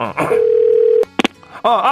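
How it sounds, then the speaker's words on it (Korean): A phone call being placed to a hair salon: a steady dial tone, then a few short keypad beeps, followed by a voice. "잠깐만 전화 한번 해보자"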